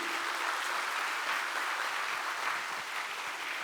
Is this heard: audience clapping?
yes